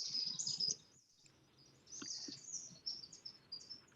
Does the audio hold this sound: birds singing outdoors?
yes